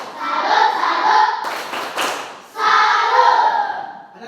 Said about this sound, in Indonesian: Kita tepuk salut untuk Dio nih.